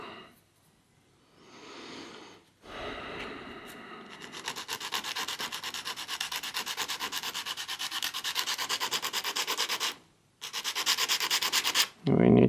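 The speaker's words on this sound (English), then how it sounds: "sanding." Steady rhythmic sanding of a broken plastic headlight mounting lug from an Opel Astra H, a rough scraping rub repeated rapidly and close up, with a brief pause near the end before it resumes.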